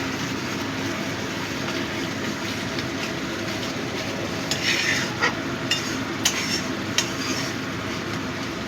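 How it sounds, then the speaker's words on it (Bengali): A spoon works through thick mustard-poppy paste mixed with Kashmiri chili powder in a pan, cooked for pabda fish. The steady, close scraping runs throughout, with a few sharper clicks and scrapes toward the end. "এবার ভালো করে মিশিয়ে দেব।"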